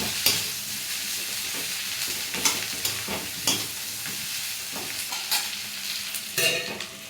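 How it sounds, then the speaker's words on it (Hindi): Vegetables sizzle in a pan at close range while a spoon scrapes and stirs through them in irregular bursts, the frying hiss steady underneath and no one talking. "अब थोड़ी-थोड़ी सब्ज़ी भुन चुकी है।"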